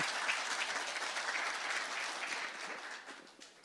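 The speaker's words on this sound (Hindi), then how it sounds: "यानी वो ताली बजा के आशीर्वाद देता जाओ।" A studio audience at a televised interview breaks into a sustained wash of applause that holds steady and then fades toward the end, with no talking over it.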